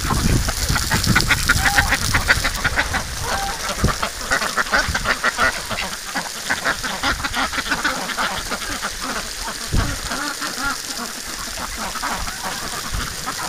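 Wintering ducks and geese quack and honk continuously as they bathe in snow, a dense loud flock chorus of overlapping calls with fluttering and splashing, steady throughout.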